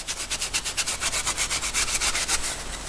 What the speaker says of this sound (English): with a file and plastic, this stuff comes off extremely fast